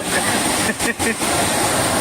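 A small roadside waterfall at Amboli in monsoon rain rushes as a steady, loud broadband roar, with brief dips and faint voices of tourists nearby.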